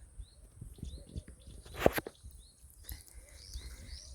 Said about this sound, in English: As you can see, the birds are chirping.